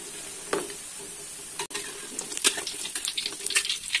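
Tofu pieces are dropped into hot oil in a home kitchen, giving a steady close sizzle with scattered crackles and pops growing busier toward the end.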